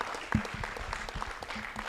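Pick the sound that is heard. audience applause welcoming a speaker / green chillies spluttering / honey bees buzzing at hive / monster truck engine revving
audience applause welcoming a speaker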